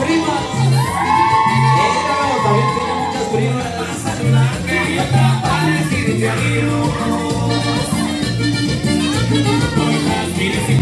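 Relatives shout and cheer at a quinceañera party, a dense mix of whoops and raised voices over steady rhythmic party music, loud and close throughout.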